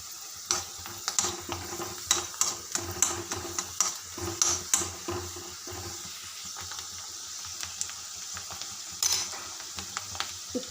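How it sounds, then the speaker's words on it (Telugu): Cumin seeds, dried red chilies and onion sizzle in a hot pan, with a steady frying hiss and scattered taps and scrapes from stirring, close and moderately quiet, with no talking. "జీలకర్ర వేగినాక కొంచెం ఎండుమిరపకాయలు, ఉల్లిగడ్డ వేసుకుందాం."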